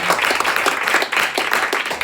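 Congregation applauding in a church service, a dense steady clatter of many hands clapping together, fairly close and sustained throughout with no clear pauses.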